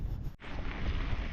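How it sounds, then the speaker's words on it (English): Strong gusty wind buffets the microphone on a hilly road during a long-distance ride, a loud steady roar with a brief dip before surging back. "It's been a very, very, very windy day."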